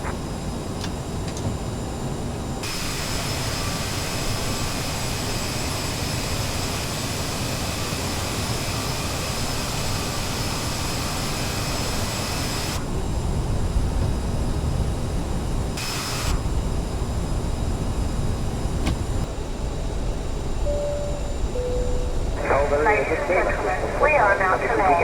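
Heard from the cabin, a jet airliner lands on runway 06 at Bastia in rain, with a steady loud engine and airflow roar, some ticking, and cockpit voices talking over it.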